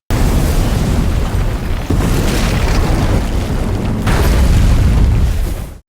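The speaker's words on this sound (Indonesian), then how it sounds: "Ledakan besar terjadi menghancurkan rumah tersebut" A big blast destroys a house in a film scene: a loud, continuous roaring rumble with crackling debris, sustained for several seconds before cutting off abruptly.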